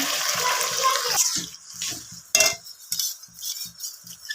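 Water poured into a pan of frying chicken for chili chicken gives a loud watery rush and sizzle in the first second, then settles into softer bubbling with intermittent clinks of utensil against the pan.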